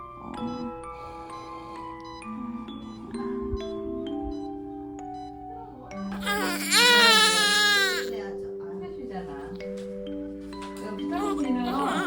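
A newborn baby cries in sobbing bursts that peak into a loud wail midway, with adults talking softly around it and light tinkling tones underneath.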